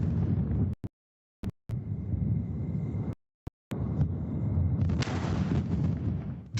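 A SpaceX Starship explodes on its launch pad late at night, a loud rumbling blast with a deep, sustained roar, broken by short silent gaps and followed by a harsher burst of crackling energy near the end.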